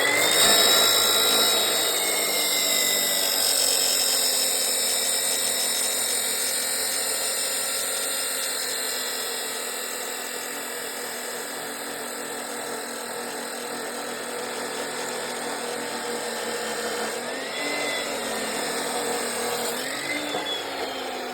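A power tool cuts through a damaged tractor PTO shaft with a loud, continuous high-pitched whine and grind close by. The cut runs steadily with slight shifts in pitch.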